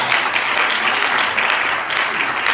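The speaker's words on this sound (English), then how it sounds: "you ought to clap on your way" An audience claps steadily and loudly, a dense wash of many hands that keeps going without pause.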